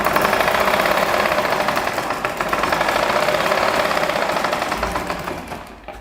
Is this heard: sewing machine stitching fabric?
yes